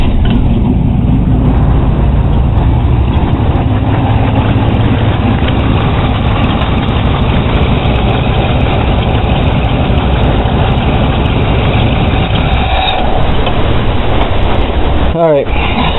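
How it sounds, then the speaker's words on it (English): A 1982 Chevy truck engine runs at a steady, low idle, loud and close, rumbling without a break for the whole stretch, with a brief sharper noise right at the end. "Fire up the truck,"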